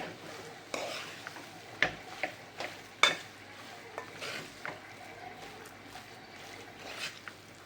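Egg chop filling stirred and mixed in a pan with a spatula, giving soft scrapes and light clicks over a faint sizzle, close and fairly quiet.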